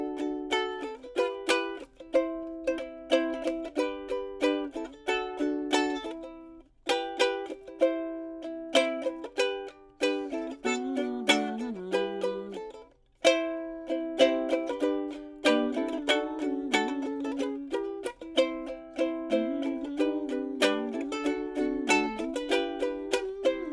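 Ukulele strumming a four-chord progression in a steady, bouncy rhythm, played alone and close.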